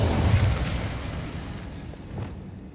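An Incendio fire spell in the video game Hogwarts Legacy bursts with a loud, deep whoosh at the start, then settles into a rumbling, crackling roar that slowly fades over a few seconds.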